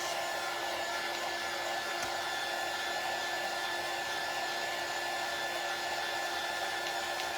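A hair dryer blows at a constant, loud whir from start to finish, drying a freshly painted wooden shutter stick up close, with no voices.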